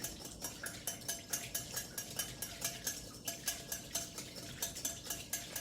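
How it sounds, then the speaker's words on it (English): A whisk beats honey dressing in a bowl with steady, rhythmic metallic clinking and scraping strokes, close and fairly quiet. "And then we're gonna whisk this one up as well"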